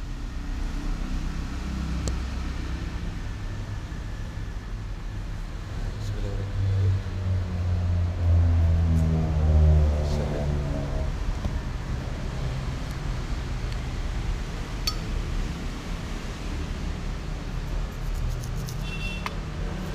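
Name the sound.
blender blending yam fruit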